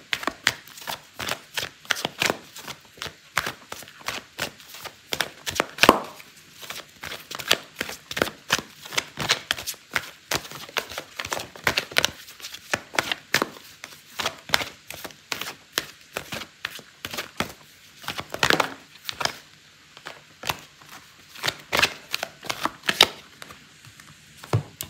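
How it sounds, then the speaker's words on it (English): Tarot cards being shuffled and drawn by hand, a long run of quick papery flicks and riffles in irregular bursts, close and soft, with almost no talking. "I'm going to pull out another card for you"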